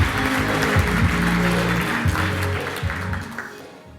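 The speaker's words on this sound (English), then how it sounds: "So everyone give Alex a big round of applause" Conference audience at the AngularConnect 2019 event applauding a speaker, a steady, loud wash of clapping from a large crowd that holds for a few seconds and then gradually fades out.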